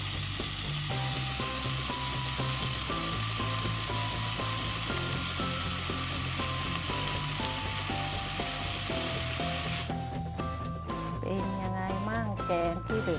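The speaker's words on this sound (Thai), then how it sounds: "แกงที่เหล็กของเราละเดือดแล้วละลายหมดแล้ว" Thai cassia leaf curry (kaeng khi lek), made with cassia leaves grown in Denmark, boiling in a pot, giving a steady sizzling bubble that runs throughout beneath continuous background music.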